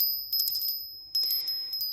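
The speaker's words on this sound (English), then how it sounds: "I also got this beautiful little brass bell." A small brass bell rings in two bright, high, sustained bursts, close and clear, with no talking.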